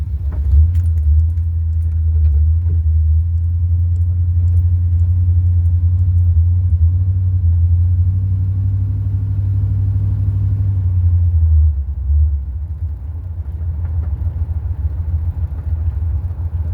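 A carburetor-swapped OBS Chevy pickup with a 4L80e transmission drives around town, its engine giving a steady deep rumble close to the mic that eases off near the end, with light rattling over it.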